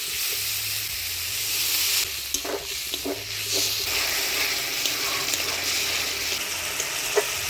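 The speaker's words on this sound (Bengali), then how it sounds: "এবারে দিয়ে দিব মশলার বাটি ধোয়া জল" Water from rinsing a spice bowl poured into a sizzling masala with tomatoes in a Bengali village kitchen, a steady loud hiss and crackle of frying with occasional stirring clanks, no talking.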